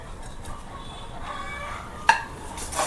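Vermicelli is tipped into a pan with a soft rustling clatter and a sharp metallic knock from the pan, followed by light scraping, quiet and close.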